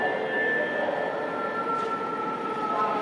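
A Dhaka metro train on the Motijheel–Diabari line pulls into Uttara Center station, making a steady electric whine and a low rumble that hold evenly throughout, with no talking.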